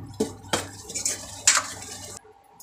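A spoon scrapes and clinks against a pan while dry spices (coriander, turmeric and red chili powder) are stirred in oil for palak paneer, a few distinct knocks and soft scraping, close up, no talk.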